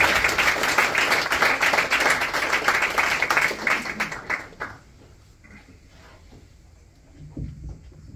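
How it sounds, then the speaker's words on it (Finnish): Warm audience applause for a poet at a Finnish open mic night, dense steady clapping for about four and a half seconds before fading into quiet room murmur. "Annetaan Kuun Vaaralle lämpöiset aplodit."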